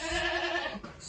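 A goat bleats on a goat farm, one loud, close, wavering cry lasting about a second and heard alone.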